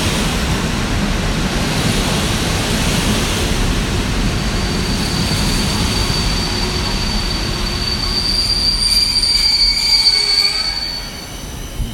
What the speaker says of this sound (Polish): Dworzec Katowice, pociąg. EIC. Ondraszek do stacji Bielsko-Biała Główna.